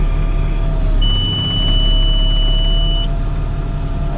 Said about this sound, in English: We have the buzzer going off indicating it's unlocked.